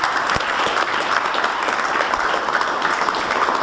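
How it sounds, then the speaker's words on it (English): A crowd at a youth baseball recruiting seminar gives a round of applause, loud, close, dense clapping with a few sharp individual claps that holds steady without fading. "a little round of applause."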